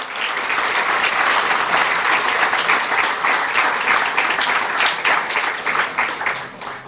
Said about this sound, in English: give the Benquevio del Carmen Marching Band another round of applause